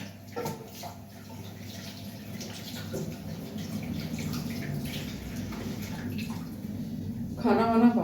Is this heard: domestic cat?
no